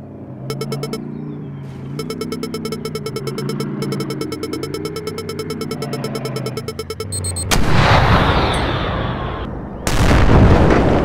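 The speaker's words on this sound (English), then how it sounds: "Sound like a good bang. Tank is down." A tank explodes in ARMA 3 with heavy, loud booms that hit near the end after a stretch of steady engine drone and rhythmic mechanical ticking. The blasts are followed by rumbling noise.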